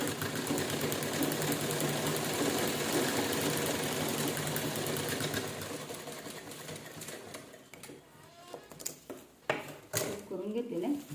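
A sewing machine stitches a folded fabric edge with a fast, steady mechanical whir for about six seconds, then slows and stops, leaving quieter handling noises and faint talk.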